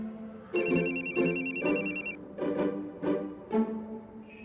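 A telephone rings with a bright electronic trill in repeated bursts, followed by several shorter chiming pulses, fairly close and alone with no talking.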